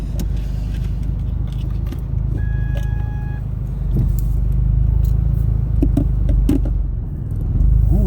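A turbocharged 2.0-litre Hyundai Genesis Coupe cranks briefly and fires into a loud, close, steady idle, rising in level with a few clicks and a short chime over the rumble.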